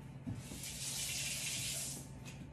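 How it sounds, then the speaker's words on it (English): Tap water runs steadily from a faucet as the tip of a chicken's feeding tube is rinsed beneath it, a continuous close hiss of flowing water with no talking. "This tip is gonna be dirty before, so you wanna rinse the tip off before you connect your syringe on there"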